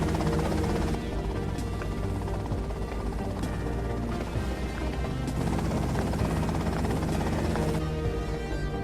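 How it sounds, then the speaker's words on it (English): A helicopter in GTA Vice City, a steady whirring rotor drone with rhythmic thumping that holds at a constant moderate level throughout, with occasional brief clicks. "Okay, that's them in the chopper."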